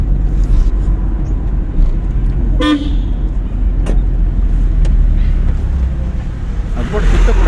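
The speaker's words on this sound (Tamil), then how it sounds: "வண்டி மெதுவாக தான் போகுது" A car rolls slowly along during a driving lesson, with a steady low engine and road rumble throughout and a short horn-like tone partway through, while an instructor's voice is heard.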